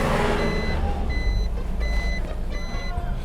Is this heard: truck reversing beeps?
yes